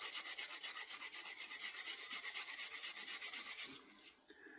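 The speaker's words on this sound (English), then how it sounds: "I'm just going to quickly go over it with a wire brush here, just to loosen up that rust" Wire brush scrubbed quickly back and forth over a rusty knife blade, a dense rhythmic bristly rasp repeating steadily at close range for almost four seconds, then stopping, with no voices.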